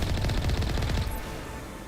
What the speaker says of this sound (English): Oh, it's just a turret.